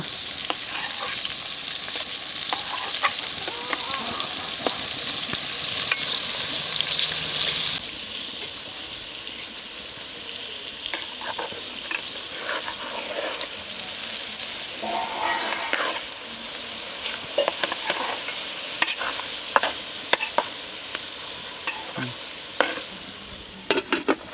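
Pounded quail meat fries in oil in a village-style kitchen, with a continuous close sizzle and repeated stirring scrapes. Faint voices come and go, and sharp clicks cluster near the end.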